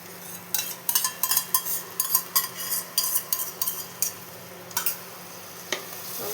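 Spice paste fries in oil in a pan and is stirred with a metal spoon. Quiet sizzling runs under a series of sharp, irregular scraping and clinking strokes against the pan, close and without talk.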